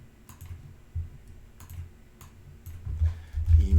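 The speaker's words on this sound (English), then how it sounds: "so I can just type those in." Quiet typing on a computer keyboard while entering category names into a SharePoint Online chart, with sparse, light key clicks in short bursts and a soft background hum.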